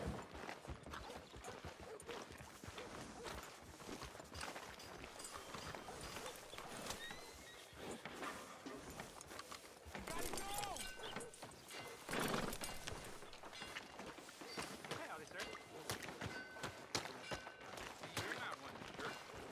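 Rhythmic clip-clop of horse hooves with occasional snorts in Red Dead Redemption 2, layered over busy game ambience and effects, moderately loud throughout.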